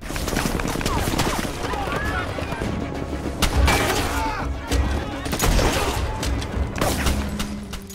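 Bursts of gunfire crackle amid a chaotic action film battle scene, with sharp repeated shots, clattering, and shouting voices layered over a noisy background.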